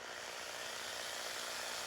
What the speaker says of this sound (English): That's about the speed that I'm drilling.